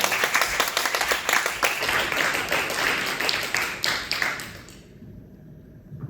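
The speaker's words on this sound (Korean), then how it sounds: "큰 박수로 맞이해 주시기 바랍니다." Audience applause at a civil engineering society convention's student program in Korea, a dense burst of many hands clapping loudly that thins out and fades to near silence after about five seconds.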